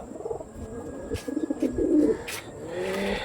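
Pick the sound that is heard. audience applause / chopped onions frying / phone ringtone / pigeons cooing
pigeons cooing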